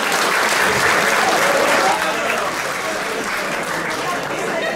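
A crowd at a pre-election campaign gathering in a café claps loudly and continuously, the dense applause easing slightly partway through as murmuring voices mix in.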